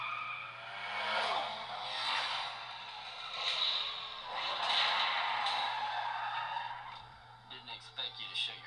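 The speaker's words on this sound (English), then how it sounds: "I love the drifting in this game." Car drifting in a Need for Speed game: long sliding tire-squeal whooshes swelling and fading in several waves over a low steady hum, ending in a few quieter scattered clicks.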